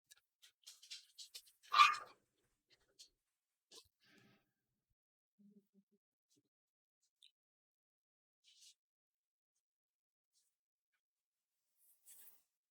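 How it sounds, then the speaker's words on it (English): A dog barks indoors with a single faint, short bark among a few scattered soft clicks and small noises in an otherwise quiet room. "you can hear my dog barking"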